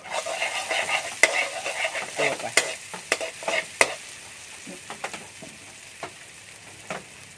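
Pork ribs stir-fried with lemongrass in a pan, with a steady soft sizzle broken by repeated scraping and clattering spatula strokes, close by and with no talking.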